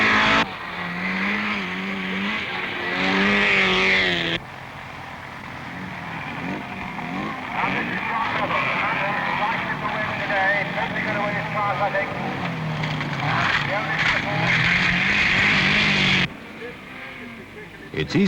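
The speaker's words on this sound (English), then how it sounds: "Another homespun special warms the course for Bevan, who's ready to go." A homespun 1970s autocross special car driving the course, its engine revving and rising and falling through gears with tyre noise, heard under continuous commentary from a narrator.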